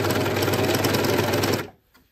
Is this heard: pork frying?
no